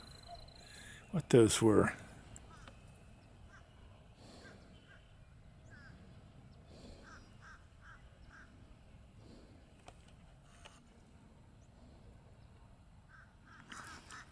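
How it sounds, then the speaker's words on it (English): Crows in Snuggedy Swamp give a loud burst of cawing nearby, followed by fainter scattered calls further off, with a person talking quietly in between. "They were probably crows."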